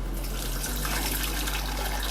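Water pours into a cooking pot in the kitchen, a steady close gushing splash over a low constant hum, with no one talking.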